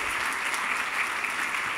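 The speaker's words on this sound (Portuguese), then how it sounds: "Uma salva de palmas para o Sérgio, gente, por favor." Audience at a business summit breaks into steady, dense applause, a continuous wash of clapping at moderate volume with no talking over it.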